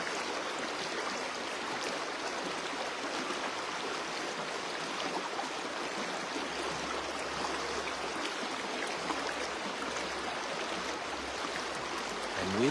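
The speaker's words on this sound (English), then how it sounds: "As you listen to the sound of cascading waters, the voice of many waters." Steady rushing and gurgling of cascading river water, a continuous broadband wash that holds at an even level throughout with no voices.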